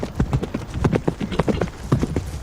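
Horse hooves clatter in a fast, irregular run of clip-clop strikes while cavalry charges a shield wall in medieval combat, close and fairly loud, with no talk.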